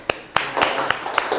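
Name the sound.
students applauding in a classroom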